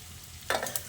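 Potato and eggplant pieces stirred with lightly fried onions in a hot pan while making susni shak, a short close scrape and sizzle in two quick bursts over a faint low hum.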